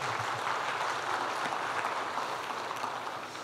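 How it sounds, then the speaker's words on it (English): A seminar audience at a leadership training event claps for a charitable foundation, a broad, even wash of applause holding steady for a few seconds before easing slightly at the end. "let's give a round of applause to Reway Foundation"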